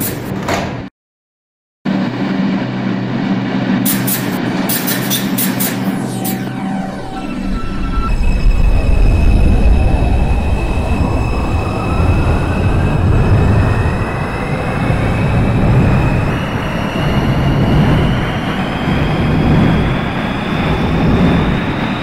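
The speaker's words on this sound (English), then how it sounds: "This is a Bronx-bound 2 train via the 5 line." A New York subway 2 train, Bronx-bound and rerouted via the 5 line, closes its doors with chimes, then accelerates away, its motor whine rising in pitch over a loud, sustained rumble of wheels on track.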